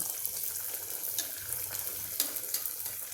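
Poha cutlets shallow-frying in hot oil in a pan, giving a steady close crackle with a few sharper spits, no talk.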